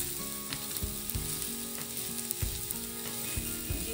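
Onion, coconut and whole spices fry in a pan for a soybean curry, giving a steady, dense sizzle with faint clinks of stirring through it and no voices.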